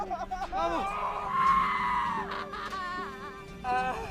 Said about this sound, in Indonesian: Mereka berteriak dan masih tidak percaya dengan apa yang telah mereka alami.